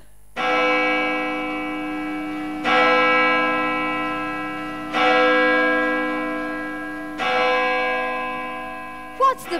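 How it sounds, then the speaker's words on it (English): A large bell rung during a school stage play of Macbeth, tolling four loud, evenly spaced strokes about two seconds apart, each ringing on and slowly fading. "Ring the bell!"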